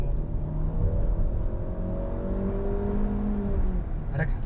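A Hyundai Bayon's engine hums steadily at idle or low speed, a muffled mid-level drone heard from inside the car with modest insulation, with a faint tonal whine and a brief click near the end.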